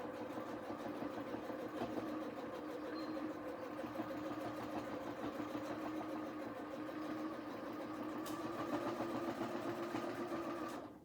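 A sewing machine runs steadily while back stitching along a pillow cover, a continuous mid-pitched mechanical whir with rapid needle rhythm, close and even, with a brief click near the end.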